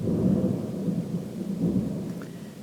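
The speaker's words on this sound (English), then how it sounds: "Yeah, that's thunder, if you heard that in the background." Low, distant thunder rumbles in slow rolling swells, deep and muffled, with a soft hiss of rain behind it and no voices.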